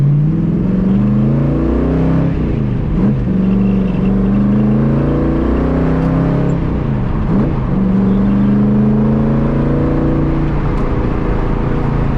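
Daytona Coupe pulling away and accelerating from inside, a continuous loud engine drone rising through gears with shifts at intervals.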